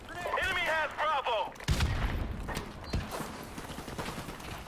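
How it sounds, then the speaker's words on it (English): Gunfire from the video game Call of Duty Modern Warfare Remastered crackles in sharp bursts under in-game voice chatter, with mechanical clicks and a loud volley near the middle. "Who the hell is shooting me?"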